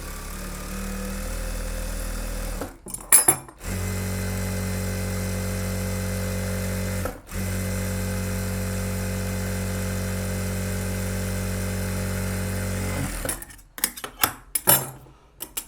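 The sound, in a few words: sewing machine stitching blouse back neck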